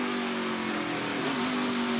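A race car engine on a wet track at the Henry 180, a steady mid-pitched drone whose note dips as the throttle lifts early, then holds. It is loud and continuous, with no voices over it.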